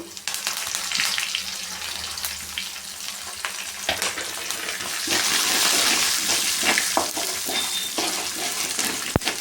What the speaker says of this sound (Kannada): ಒಣಮೆಣ್ಸಿಗೆ ಹಾಕೋತಾ ಇದ್ದೀನಿ ಕರಿಬೇವು